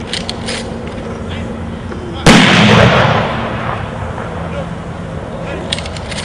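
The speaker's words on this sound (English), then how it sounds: "Fire three volley." A rifle volley at a full military honors funeral at Arlington National Cemetery cracks out as one loud, sharp, simultaneous blast outdoors, followed by a rolling echo that fades over the next second.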